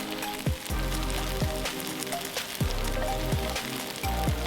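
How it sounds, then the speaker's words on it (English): Vegetables caramelizing slowly in a pan for venison stroganoff, a steady close sizzle with soft crackles and a few scattered utensil knocks, no voices. "We are caramelizing these things, not frying them."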